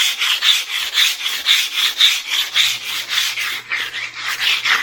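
A diamond pad is rubbed back and forth along a sharp edge to round it, giving about ten close, rhythmic rasping strokes of even loudness, with no talk.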